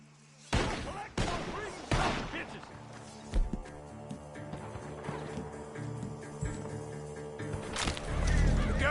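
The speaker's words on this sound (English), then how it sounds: "The gunshots are coming from that barn!" Several loud gunshots from a barn crack out at irregular intervals in Red Dead Redemption 2 gameplay, spread across the clip, over a steady musical bed with voices talking.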